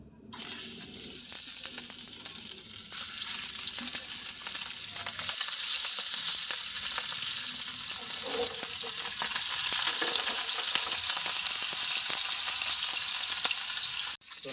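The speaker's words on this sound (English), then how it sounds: "So now our oil is hot. So let's go ahead and start browning our meatballs." Meatballs brown in hot oil, giving a steady crackling sizzle that swells louder toward the end, with occasional stirring and scraping sounds and no talking.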